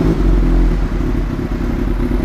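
A Kawasaki ZX636 sport motorcycle engine runs close and loud with a dense, rapid low clatter and steady idle rumble, holding for a couple of seconds with no talk.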